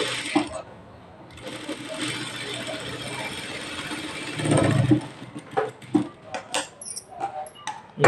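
A sewing machine stitching a work blouse, running in a continuous mechanical whir that rises to a louder burst, then broken up by short clicks and rattles as the fabric is turned.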